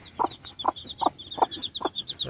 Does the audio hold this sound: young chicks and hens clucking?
yes